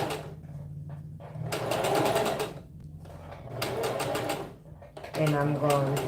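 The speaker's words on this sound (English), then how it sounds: "And I'm going to back stitch, always secure the end of every stitch." An electric sewing machine back stitches a bell sleeve in three short whirring bursts separated by pauses, close and fairly loud, with a person talking between and over the runs.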